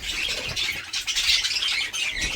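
Pet birds squawking and calling in a rain-soaked enclosure with wet straw and standing water, repeated harsh calls fairly close over a damp background hiss, no talking.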